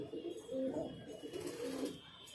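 Pigeons softly cooing inside a highflyer pigeon loft, low repeated coos close by against a faint steady background.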